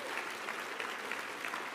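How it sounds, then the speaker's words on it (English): Applause at a business diversity conference keynote, a brief, dense burst of clapping from a room full of attendees, steady and moderately loud with slight swells. "let me hear by a round of applause, which should be everyone in this room"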